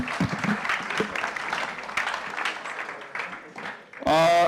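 Audience applause at a live startup demo night in San Francisco, dense clapping mixed with talk and whoops over most of the stretch, ending in a loud burst of cheering near the close.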